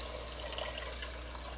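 Water runs and pours steadily into a cooking pot of yellow split pea dal in a home kitchen, a brief continuous splashing gush at a quiet level.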